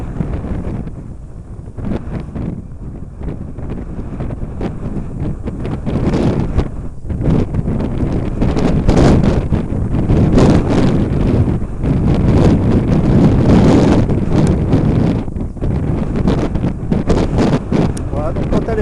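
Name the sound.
strong wind on a slope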